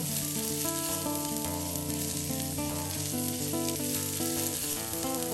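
Sliced ginger, chopped garlic and green onion sizzle steadily in hot oil in a frying pan, a continuous close frying hiss with no talking.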